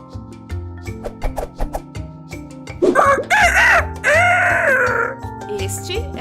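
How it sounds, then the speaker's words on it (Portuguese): A rooster crows loudly once in a children's song about animal sounds, rising from a plucky rhythmic music bed before the backing continues alone. "Este é o som do galo,"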